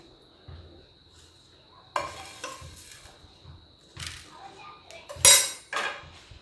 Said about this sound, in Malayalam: ഈ അവിലൊഴിച്ചിട്ട് നമ്മളിതേ ഒന്ന് ചെറുതായിട്ട് ഒന്ന് മിക്സ് ചെയ്ത് കൊടുക്കുക